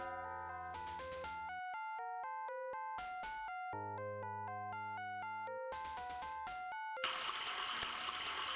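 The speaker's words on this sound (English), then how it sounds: "The doorbell is ringing." A bright electronic chime plays a stepped melody of tonal notes, a doorbell ringing in the video game Dark Seed through a backdrop of music, ending in a hiss of noise.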